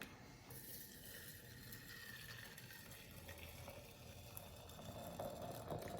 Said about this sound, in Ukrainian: Тепер заливаємо кип'ятку.